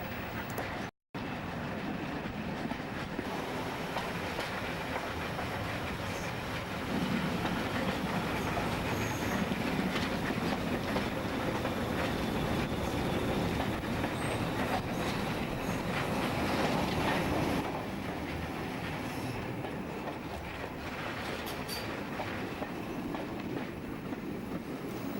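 A train runs steadily along the Great Central Railway near Loughborough Central, with a continuous rumbling roll of wheels and carriages that swells louder through the middle stretch before easing back, no voices present.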